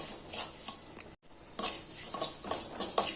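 Urad dal dry-roasted and stirred in a pan, a close, continuous dry rustling scrape with brief clinks, a short drop out midway, then louder stirring resumes.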